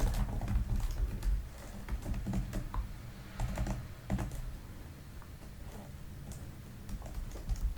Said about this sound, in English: just going to type some things in